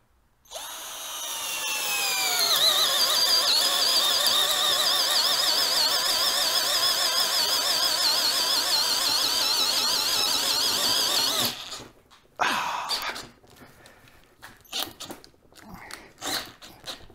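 A 12V Tacklife cordless drill with a 15/16 inch spade bit spins up and bores steadily with a strained, whining drone for about ten seconds, then stops, followed by short clattering handling noises.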